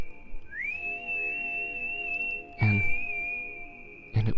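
An eerie, sustained whistle in a creepypasta narration slides up in pitch and then holds a steady, slightly wavering tone, with two brief low thumps breaking in alone.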